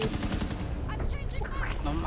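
Close, loud bursts of rapid gunfire in Rainbow Six Siege, a quick rattle of shots with ringing metallic tails, while a voice talks faintly underneath.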